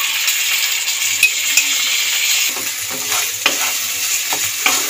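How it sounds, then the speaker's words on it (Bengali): Paste of banana stem and spices being stirred in a frying pan, with a steady sizzle and soft scraping strokes plus a few light metallic clinks from the utensil. "ভালো করে থোড়টাকে আমি মশলার সাথে নাড়িয়ে চাড়িয়ে মাখিয়ে নিয়েছি ফ্রেন্ডস।"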